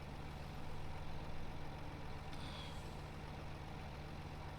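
In a farming video game, a tractor engine drones at a steady low idle for several seconds, a constant humming rumble at moderate level with a brief soft hiss partway through and no voices.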